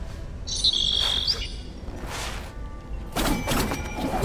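Bird calls in the Prince of Persia: The Lost Crown video game, a bright short whistling chirp near the start followed by soft thuds and bursts of game effects, with no speech.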